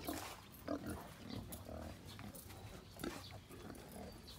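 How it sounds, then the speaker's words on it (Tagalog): Piglets on a pig farm squeal and grunt quietly in scattered short bursts, faint and somewhat distant, with low rustling between calls. "Ayan naman po yung ating mga biik."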